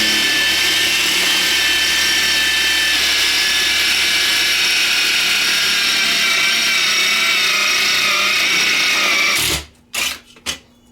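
A power drill bores through an aluminum solar panel leg with a loud, steady high whine held for several seconds, then stops abruptly and gives a few short bursts.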